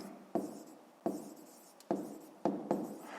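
A pen writes a name onto paper in a short series of about five quick scratchy strokes, each starting sharply and fading, close and alone without any voices.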